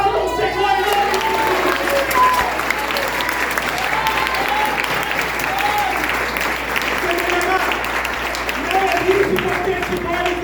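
A church congregation applauds loudly and continuously for about ten seconds, a dense wash of clapping filling the room, with a voice calling out over it.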